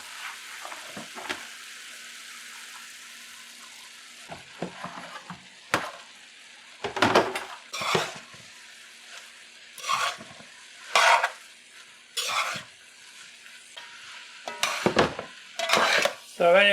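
Rice and celery are tossed in a big wok with two spoons, repeated metallic scrapes and clangs arriving in uneven bursts over a low sizzle, fairly close and without talking.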